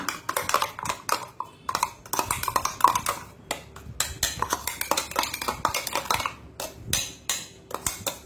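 Finely ground masala for a Mangalore-Udupi style black pomfret gravy being scraped and tapped from a mixer jar into a clay pot, a busy run of close metallic clinks and knocks.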